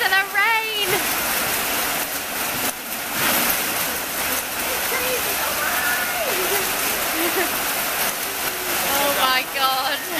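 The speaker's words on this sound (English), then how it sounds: "And listen to the rain!" Steady, dense rain hiss fills the scene, with occasional voices and a brief tonal signal near the start and end.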